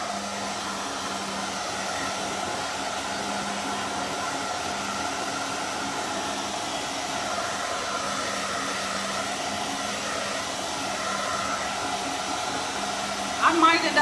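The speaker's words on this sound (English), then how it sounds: "my blow dryer is pushing that paint all over the place" A blow dryer drying wet paint on gnome yard art runs as a loud, steady whoosh and hum throughout, close to the listener, with a brief clatter near the end.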